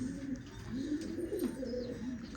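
Ferozpuri pigeons coo softly and faintly, with low, rolling calls repeating through the moment against quiet background noise.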